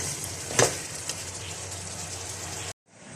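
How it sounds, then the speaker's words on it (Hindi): Beef browning in a pan with red chillies, korma masala, coriander and turmeric, a steady close sizzle with a brief stirring clatter near the start before it cuts off, then resumes. "इन मसालों के साथ अपने गोश्त को अच्छा सा भूनूंगी"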